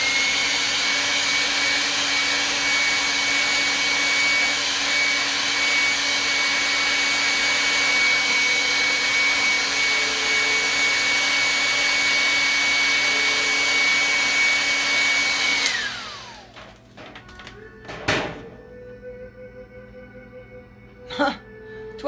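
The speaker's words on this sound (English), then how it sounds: "I'm just going to take the blow dryer to that" A handheld blow dryer dries paint on a 12x16 Buddha painting with a loud, steady whirring rush for about fifteen seconds, then switches off, leaving a quiet room with a few small knocks.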